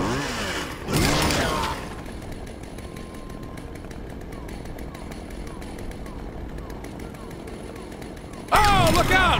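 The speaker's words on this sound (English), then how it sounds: "And here comes the chainsaw." A chainsaw revs in the video game Saints Row The Third, a steady buzzing drone sustained across most of the stretch, with loud bursts at the start and end and a commentator's excited voice coming in over it.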